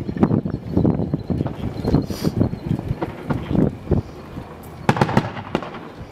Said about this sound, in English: Matt's shooting right now.